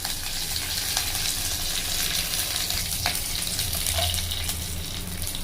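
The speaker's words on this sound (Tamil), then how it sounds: "கீனி வச்சுருக்க 2 பச்சை மிளகாயும் கருவேப்பிலையும் இதில் போட்டுடலாம்." Steady sizzling and crackling of mustard seeds and urad dal frying in hot oil, with occasional sharp pops, close and continuous, no talking.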